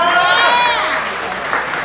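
Audience applause fills a Vietnamese concert hall in Orange County, dense and close, while an excited voice rises over the clapping.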